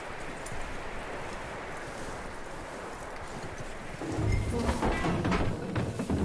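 Horse hooves clip-clop steadily in a western-style video game, a continuous rhythmic patter over outdoor ambience that grows louder and closer in the last couple of seconds.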